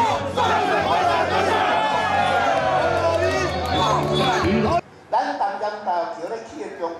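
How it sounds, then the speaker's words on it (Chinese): A crowd of supporters cheers and shouts for Hou Yu-ih at an outdoor campaign headquarters opening in a plaza in Tamsui on a windy day, a loud, dense, continuous roar of voices that cuts off briefly before resuming slightly quieter. "侯友宜进场时受到群众欢呼"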